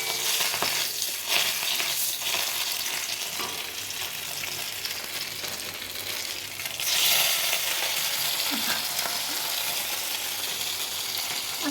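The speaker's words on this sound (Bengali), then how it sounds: "আমি মাছটা ভেজে দিই" Fish frying in a hot wok, a steady loud sizzle and crackle running throughout with occasional stirring scrapes, growing briefly brighter midway.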